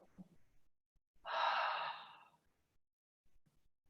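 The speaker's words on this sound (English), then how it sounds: "A few open mouth exhales." A single long open-mouth exhale during a yoga session, a breathy airy whoosh swelling up close and tapering off over about a second, framed by soft breath sounds and quiet pauses.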